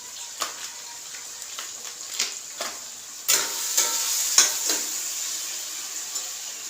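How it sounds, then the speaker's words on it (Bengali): Ginger-garlic paste stirred in a frying pan, a soft background sizzle broken by repeated scraping strokes of a spoon, about a dozen irregular scrapes, close and moderately quiet with no talk. "এই আদাটা দিয়ে ভালো করে নাড়বো।"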